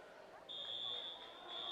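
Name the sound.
fire alarm going off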